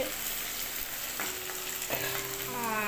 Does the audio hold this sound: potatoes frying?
yes